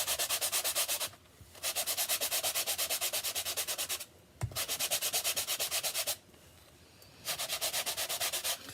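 Steady, rhythmic back-and-forth rubbing of sandpaper in several bursts, separated by brief pauses, fairly close and with no voices.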